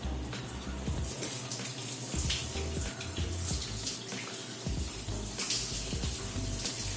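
Cold water from a shower runs steadily and fairly loud close by, a continuous broad splashing hiss with small shifts in flow from start to end and no talking.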